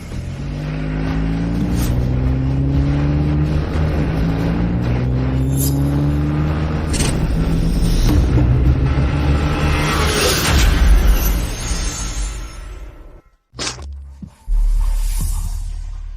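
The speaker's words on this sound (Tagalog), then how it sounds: "Banggain ang sasakyan niya." A car accelerates hard to ram another vehicle, its engine roaring and rising in pitch through several gear changes, then cutting to a sharp, brief impact and a final surge of rumble.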